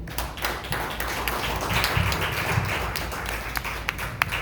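A church congregation claps during a Spanish-language sermon, with a dense, steady wash of clapping and a few sharper individual claps standing out toward the end.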